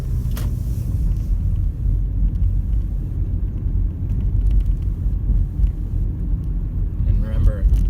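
A car's steady low road rumble and wind noise fill the cabin during a mock California behind-the-wheel driving test as it moves through an intersection after a turn, with continuous engine drone under occasional interior sounds.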